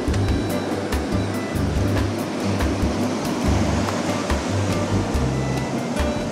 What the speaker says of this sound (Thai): และในที่สุดเราก็ได้โดนทะเลแล้วครับทริปนี้